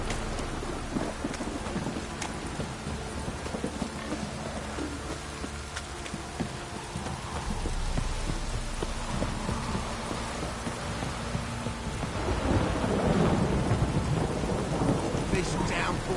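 Steady downpour with rolling thunder in the Witcher 3: Wild Hunt game, hiss of rain throughout and low rumbles swelling louder in the second half, heavy near the end.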